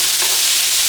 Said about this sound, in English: We're gonna give the ham a good color before we add in our vegetables.